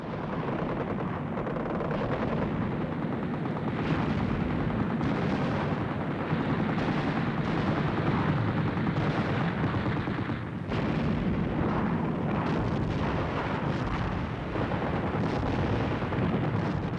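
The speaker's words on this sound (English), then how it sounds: "The defenses of Deploy were bombarded by German guns." German artillery guns bombard village defenses in a WWII battle, a dense, continuous roar of booms and gunfire rumbling without pause, loud and unbroken, with no voices.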